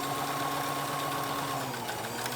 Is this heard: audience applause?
no